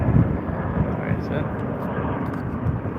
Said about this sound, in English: So here's our Jetstar A320.